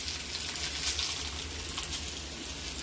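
Dried red chilies fry with crushed garlic and browned rice in hot oil, a steady broadband sizzle with small crackles that stays even from start to finish, with no talking.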